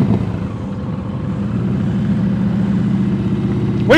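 A motorcycle engine runs at low revs during slow-speed riding practice, a steady mid-pitched hum that rises briefly as throttle is added near the end, with no talking.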